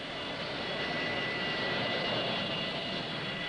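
Airliner engine roar at Fort Lauderdale International Airport, a steady broadband rushing drone that stays loud and even throughout with no voices.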